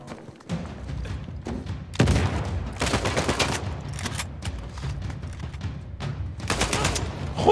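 Gunfire in Uncharted 4: A Thief's End during a firefight with many enemies, near and loud, with repeated bursts and sharp single shots plus thuds, including a headshot, spread across several seconds.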